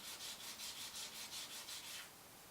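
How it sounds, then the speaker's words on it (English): Sandpaper rubbing the edge of a handmade coin ring in quick, even back-and-forth strokes, close and clear, about nine strokes before it stops near the end. "go ahead and just sand that out like that"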